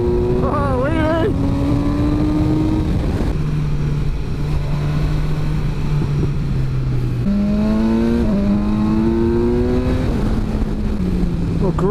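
A BMW S1000XR motorcycle engine revs hard through several rising gear pulls, loud and close, with brief drops between shifts on an open road, and a rider's voice mixed in.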